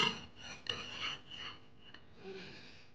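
A knife slicing into a freshly baked, still-warm cocoa keks cake, giving a soft close rasping scrape with a few faint crumbly scratches, quiet and alone.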